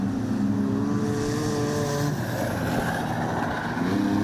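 Wingless sprint cars racing at Lismore Speedway, a loud, steady roar of several engines with shifting pitches as they run together through the turns.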